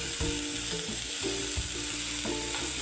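Chopped gourd hits a hot pan with cumin and garlic and sizzles loudly and steadily, with clinking and scraping as it is stirred. Nobody speaks.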